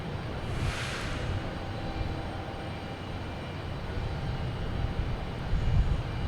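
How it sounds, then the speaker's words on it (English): A JetBlue Embraer E190 jet airliner arrives at Boston Logan Airport, its engines a steady broadband roar at moderate distance that holds evenly throughout, with a brief hiss early on and a slight swell near the end. "Here's JetBlue coming in from Pittsburgh in E190."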